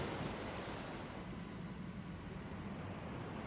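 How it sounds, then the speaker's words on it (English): Ocean waves closing a track: a steady, broad wash of surf that stays loud and even across the whole stretch, with no voices. "And then you end it with the waves"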